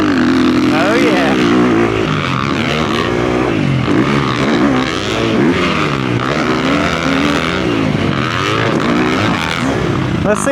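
Yamaha YZ250F dirt bike engine revving hard through a corner, a loud sustained motor with rising and falling pitch, heard under continuous talking and excited voices.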